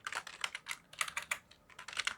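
Quick, irregular bursts of keystrokes clatter on a computer keyboard, close and fairly soft, alone without speech.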